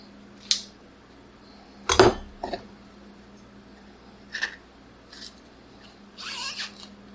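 A knife trims the stem end of a vegetable on a spiralizer with a few sharp, close clicks and scrapes separated by quiet pauses.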